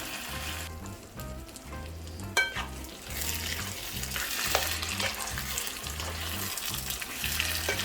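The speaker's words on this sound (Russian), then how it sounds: "Пожарим минут 5 без крышечки, чтобы они у нас обжарились." Eggplant frying in an open, uncovered pan, a steady dense sizzle with occasional clinks and scrapes of stirring, close and continuous throughout.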